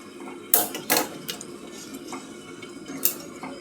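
A metal plate clatters onto a pan of masala frying in oil for egg curry, with two sharp clanks followed by a few lighter taps and scrapes over a quiet sizzle, close and clear with no talking.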